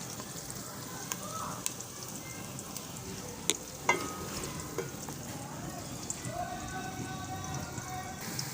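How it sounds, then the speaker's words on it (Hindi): Onions frying in oil in a pan for aloo palak, a soft steady sizzle throughout with a few light clicks of stirring, moderately quiet and with no talk. "प्याज हमारे तकरीबन फ्राई हो गए"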